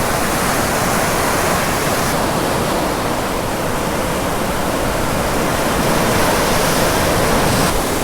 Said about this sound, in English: we saw the water wash away the footprints in the sand